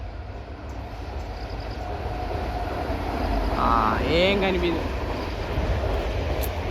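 A train passes with a steady low rumble that swells to its loudest midway and then eases off slightly. A person speaks briefly over the noise.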